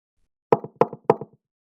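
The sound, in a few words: knocking on a door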